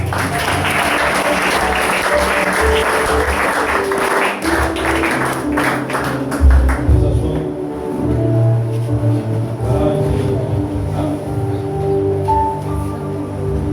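A church congregation claps together, a dense burst of applause for about seven seconds that thins into scattered claps and then stops, leaving a low murmur and room noise.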